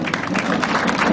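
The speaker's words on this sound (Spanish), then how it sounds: "Fuerte el aplauso nuevamente a otro contingente más de estos jovencitos de esta institución" A crowd claps for a contingent of young students passing in a civic and sports parade, dense outdoor applause heard briefly at close range.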